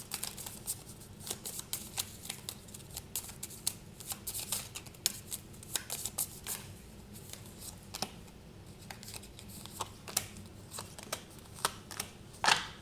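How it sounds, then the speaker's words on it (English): Tarot cards being shuffled by hand, a steady run of crisp riffling and sliding card sounds that continues close up and fairly quiet for the whole stretch, with no voice over it. "Now let me pull some cards from here"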